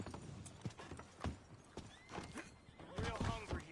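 Horse hooves clip-clop in Red Dead Redemption 2 as a few irregular thuds and steps, with a horse whinnying near the end and a voice talking over parts of it.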